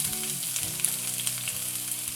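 Chopped large onion hits hot oil already crackling with popped mustard seeds for a clam meat fry, giving a steady close-up sizzle with light crackles and occasional stirring scrapes.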